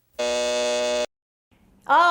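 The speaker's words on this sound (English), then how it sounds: "and there's the buzzer." A quiz show buzzer sounds a single loud, flat electronic buzz for about a second, then silence before a voice starts speaking.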